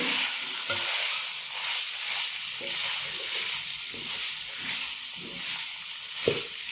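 Cabbage and capsicum stir-fried over high heat in a pan sizzle steadily with a bright hiss, while spatula scrapes and stirring clatters punctuate it, including a sharp knock near the end.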